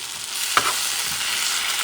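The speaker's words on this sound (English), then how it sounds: "I'm going to let this shrimp cook here" Shrimp cooking in sofrito with smoked paprika for Spanish seafood rice, a steady bright sizzle with one sharp clink of a utensil early on, close and without speech.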